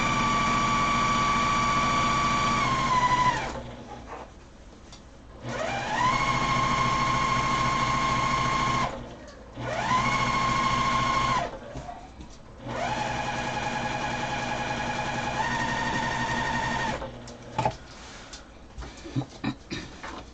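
A sewing machine runs a double line of stitching along a pillow, its steady whirring motor coming in several long bursts separated by brief pauses, with a few short clicks at the end.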